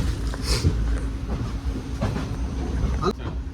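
Rumbling rail noise of a train rolling by, with clattering wheel sounds and a sharp metallic squeal near the end; voices faintly underneath.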